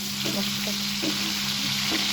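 Fish sizzling steadily in a pan, with a few soft scraping stirs and a low hum beneath.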